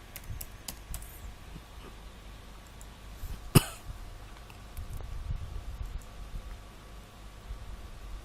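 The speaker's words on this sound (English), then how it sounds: "Oh, we need to type." Quick, light computer keyboard typing in bursts, close and fairly quiet, with a single sharp click or cough-like thump midway and a faint steady background hiss.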